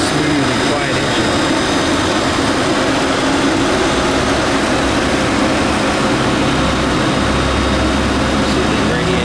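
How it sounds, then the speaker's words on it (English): A 2016 Nissan Maxima SL engine idles with the hood open, a steady, smooth, loud hum and whir that holds constant throughout without any change in pitch. "the camera always picks up the noise of the engine"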